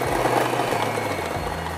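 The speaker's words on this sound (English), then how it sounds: "Grab our mixer and start mixing." Electric hand mixer whirring through mashed potatoes for shepherd's pie, a steady motor drone with low pitch shifts as the beaters work the mash.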